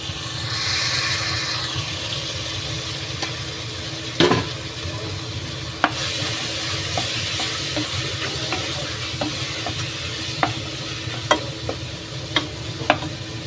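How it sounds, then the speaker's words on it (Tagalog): Fresh tomato crushed and stirred into a sizzling pan while cooking beef goulash, a steady close frying hiss under scattered scraping stir clicks and a sharper knock near the start, no voices. "Dudurugin lang natin yung tomato."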